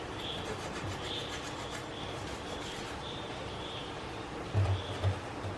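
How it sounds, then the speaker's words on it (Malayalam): A brush scrubs a kitchen wash basin drain pipe, making a steady, soft rasping rub with faint repeated strokes throughout, close by and moderately quiet, with a couple of low knocks near the end. "നമുക്ക് ഇതേപോലെ തന്നെ ഈ വാഷ് ബേസിൻ്റെ പൈപ്പും ഉരച്ച് കഴുകേണ്ടതുണ്ട്"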